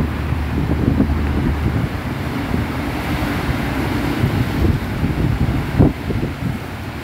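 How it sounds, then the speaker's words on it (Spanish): Heavy swell breaks on the rocks along a Veracruz beach during a strong surge, a continuous dense roar of surf mixed with buffeting wind across the microphone, with no pauses. "Escuchen, hasta acá se escuchan las olas como rompen ahí en las piedras."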